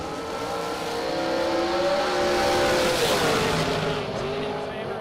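A dragster on an Ezel chassis races down a drag strip, its engine a loud, sustained roar that builds and then fades slightly as it passes, with a commentator talking over it.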